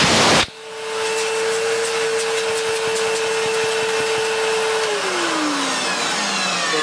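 A refurbished Electrolux Cyclone Power Z1910 vacuum cleaner starts abruptly and runs with a loud, steady motor whine and airy suction roar close by. Near the end its pitch slides downward, and no voices are heard.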